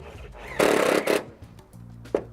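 A power driver runs fasteners through the front lip of an eaves trough and into a fascia board during a Smart Screen gutter guard install: two close, loud whirring bursts, then quieter handling and a brief knock.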